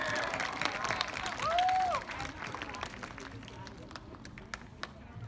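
Students and guests at an elementary school rewards assembly clap in the room, a brief burst of applause with a whoop that fades into scattered claps.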